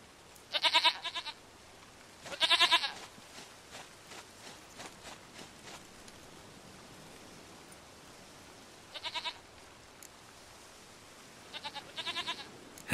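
A goat in The Witcher 3 bleats in short, loud bursts: two close together at the start and a few more later. Quiet ambient sound and faint footsteps fill the gaps between the cries.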